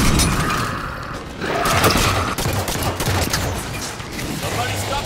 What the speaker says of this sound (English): Somebody stop that turret.